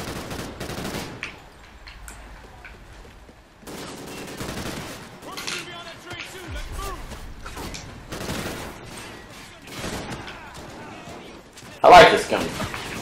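Gunfire in the Call of Duty: Ghosts campaign mission "Severed Ties", scattered bursts and shots with a loud blast near the end, mixed under frequent talking.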